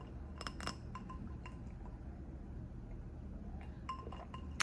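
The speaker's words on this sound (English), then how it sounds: "I'm drinking iced coffee out of a wine glass." Ice cubes clink a few times against a wine glass holding iced coffee, sparse bright taps close by over a quiet room hum, clustered near the start and again toward the end.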